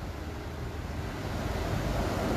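Ocean surf on a beach where surfers wait for waves makes a continuous broadband wash that builds slightly in loudness, mixed with wind rumble on the microphone and no distinct voices.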